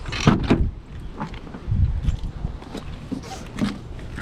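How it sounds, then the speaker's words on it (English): Nissan Z car door swinging and thudding, several short knocks and clunks close by, with faint movement sounds between them. "typical Z fashion, the doors want to close on your legs."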